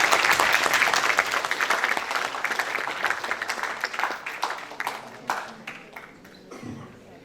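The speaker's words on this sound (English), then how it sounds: "Please give a loud round of applause." A loud round of audience applause at the inaugural session of a digital health conference in India, dense clapping that gradually thins into scattered individual claps and fades toward the end.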